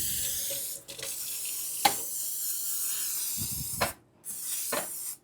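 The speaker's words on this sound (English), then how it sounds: "We're going to spray our pan." Cooking spray hisses onto a pan in a few sustained bursts, close and fairly quiet, with a couple of short clicks and knocks between sprays.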